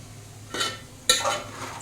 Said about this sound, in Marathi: सगळ्या भाज्यांना एकजीव करून घेऊया मसाल्यामध्ये